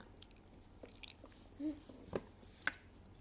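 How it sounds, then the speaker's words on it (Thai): A child chews pork up close, with a few soft bites and moist, squishy chewing sounds scattered over a few quiet seconds. "หมูอร่อยอ่ะวิงครับ"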